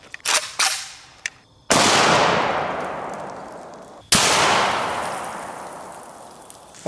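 Two loud, close AK-47 rifle shots firing 7.62x39 soft-tip rounds, each a sharp crack followed by a long ringing echo decay, with a few lighter clicks and knocks before the first shot.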